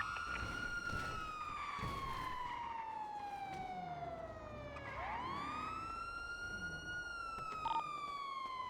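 A police siren in the NoPixel GTA roleplay video game wails loud and close, its pitch sweeping slowly down, then rising again, with a brief short burst near the end.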